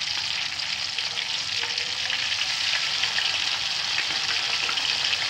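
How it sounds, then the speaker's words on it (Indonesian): White snapper pieces rubbed with salt fry in hot oil, giving a steady, dense sizzle and crackle that holds level from start to finish with no talk over it. "Siapkan minyak secukupnya buat menggoreng ikannya."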